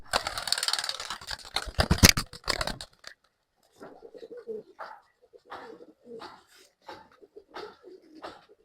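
A two-year-old male Rekdhar pigeon coos in a series of soft, throaty calls, following a burst of louder wing flapping and scuffling at the start.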